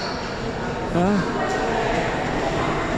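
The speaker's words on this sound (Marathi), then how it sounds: "तर ती पी सी एम सीकडून आलेली आहे ट्रेन मेट्रो" A Pune metro train arrives at an underground station with a loud, steady rumble and hiss that swells slightly midway, while people talk over it.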